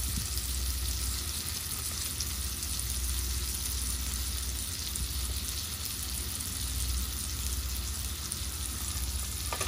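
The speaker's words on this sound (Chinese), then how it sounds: "我哋煎嘢咧，見到嗰啲油咧圍住個食材喺度滾咧" Steady, dense sizzling of scallops pan-frying as oil bubbles around them, an unbroken close crackle holding an even level throughout with no talking.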